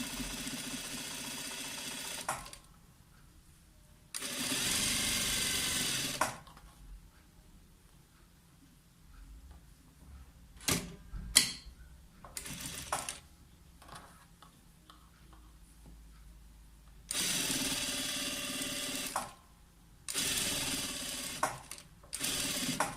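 A sewing machine stitching bias binding onto a tracksuit sleeve runs in several loud, steady whirring bursts of a few seconds each. Quiet gaps separate them, broken by small clicks and handling taps, with no voices.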